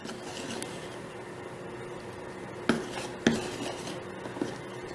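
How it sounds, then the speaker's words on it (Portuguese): A spoon stirs chocolate porridge for a Baby Alive doll in a small toy-sized pot or bowl, with soft scraping and a few sharper clinks against the container, close and alone. "Mexe bem para poder misturar"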